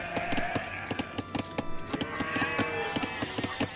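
Sheep in the video game Age of Empires II bleat in short repeated calls over clicking and a background game music bed, fairly close and moderately loud.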